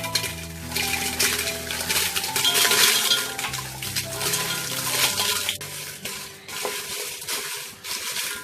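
Dried red chillies tossed in a hot pan on medium flame alongside poppy seeds for Andhra masala chilli powder, giving a continuous dry rattling and scraping with light clinks as they are stirred, close and fairly loud.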